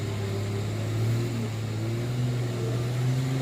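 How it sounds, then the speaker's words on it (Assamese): A steady, droning engine hum holds throughout at moderate loudness, like a vehicle cruising along a hill road, with no voices. "গাড়ী চলি আছে, অলপ গাড়ী মাত শুনাব পাৰে।"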